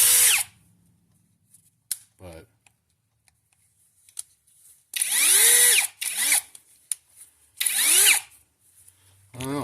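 An AliExpress Dewalt DGD805 hammer drill spins up in short, loud bursts, each with a slow rising whine. Quiet gaps and small clicks fall between the runs.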